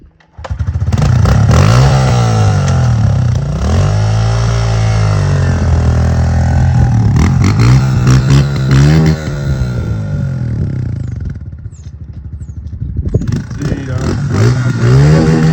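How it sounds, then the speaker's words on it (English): A Honda CRF-125F dirt bike is kickstarted, catches, and revs loudly up and down close by with rattling clatter, easing off briefly before revving hard again. "Oh, gotta use the kickstart."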